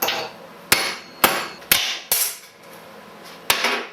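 Hammer striking a fully hardened steel centre finder punch pin until it shatters: five sharp metallic blows spaced unevenly, each a loud close crack with a brief ringing decay, in a quiet workshop.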